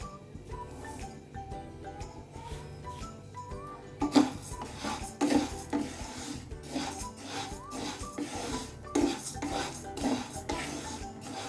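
Rice being dry-roasted in a pan on medium flame for chakali, with a spoon or spatula repeatedly scraping and stirring against the metal, giving close, uneven clinks and rasping strokes that grow busier partway through.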